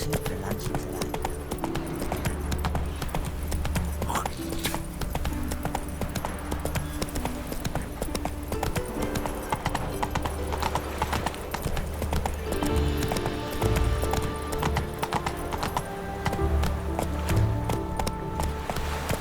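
Geralt's horse Roach trotting in The Witcher 3: Wild Hunt, a steady brisk clip-clop of hooves on the ground that continues throughout, with music in the background.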